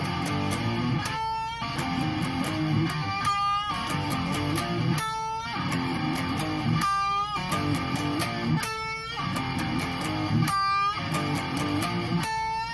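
Electric guitar plays the bridge of a song, a loud, steady riff in repeating phrases with bright accented notes recurring about every two seconds, heard alone.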